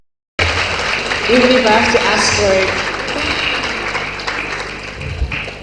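Audience applause fills a midwifery conference hall in Nigeria, a steady wash of clapping from many hands at moderate loudness that runs the whole length, with a voice speaking briefly over it near the start.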